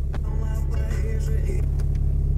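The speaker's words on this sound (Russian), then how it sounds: "Ну вот так вот, в принципе, автомобиль завели" A turbocharged Lada Kalina of about 200 horsepower idles just after starting, heard from inside the cabin as a steady, even low rumble with a faint engine hum and no revving.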